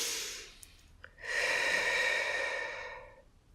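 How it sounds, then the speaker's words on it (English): During a guided meditation, a person takes a deep, audible breath close to the microphone: a short inhale, a brief pause, then a long, steady airy exhale that fades out. "3 deep breaths."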